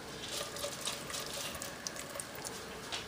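Broth poured into a pan on the stove while making chicken pot pie gravy with flour and milk, a steady close splashing trickle of liquid that runs throughout the short moment.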